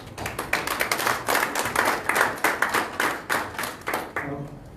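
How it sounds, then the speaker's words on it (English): Applause at a luncheon held at the Sarova Panafric Hotel for Kenya's editors' guild: a steady crowd of hands clapping in dense rhythmic bursts for about four seconds, fading toward the end. "I want to ask for another round of applause for the country representative for UNICEF."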